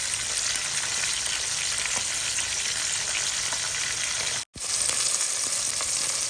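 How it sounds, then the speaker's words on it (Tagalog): Garlic, onion and ginger sauté in oil in a pan for mung bean stew, a loud dense continuous sizzle close by, briefly cut off for an instant near the end, with no talking. "Ginigisa ko na po ang ating bawang, ang ating sibuyas, at ang ating luya po."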